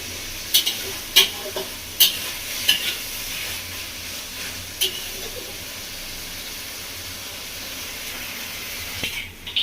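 Katla fish head and eggplant sautéing in a pan for a Bengali-style curry, a steady close sizzle with a few sharp spoon clinks early on and a louder scrape near the end, no voices.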